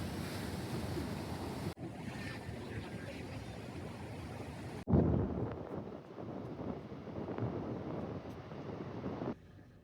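Rough ocean waves crashing on the Oregon shore, a loud continuous roar of surf with wind buffeting the microphone and a sudden heavier surge midway.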